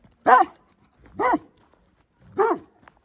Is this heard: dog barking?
yes